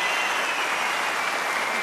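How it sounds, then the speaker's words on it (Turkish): Steady applause from an audience at a Turkish public forum, a dense wash of many hands clapping continuously at an even level with no voices standing out. "daha büyük alkış o demokratik hakkını kullanmış olan kadınlara"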